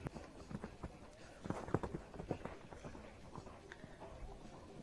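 A quick, shiny horse's hooves clip-clop on the ground of an adult show ring, a fairly faint, irregular run of hoof beats under outdoor ambience with a voice talking over them.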